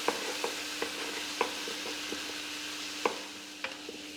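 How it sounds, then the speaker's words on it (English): Butter melting with softened, translucent onions in a pan, giving a steady soft sizzle broken by scattered light clicks and scrapes of a utensil against the pan, with no talking. "Now I'm going to plop in the ounce of butter, 25 grams"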